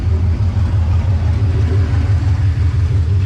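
An LS-swapped Nissan Patrol engine idles close by, a loud, steady low rumble with an even rhythmic lope throughout and no voices.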